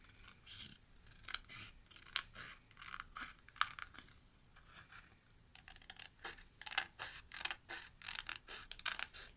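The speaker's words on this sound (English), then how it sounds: "So I will use my scissors again." Scissors snipping paper while making a craft folio, a series of short crisp cuts and rustles close by, quiet and irregular, some single snips and some quick runs, with no talk.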